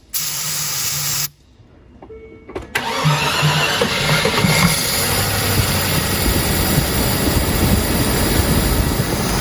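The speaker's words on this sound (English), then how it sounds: "see if the engine runs" A hiss of starter fluid spray, a brief pause, then a Land Rover Discovery truck engine cranks and catches, settling into a loud, steady running roar up close.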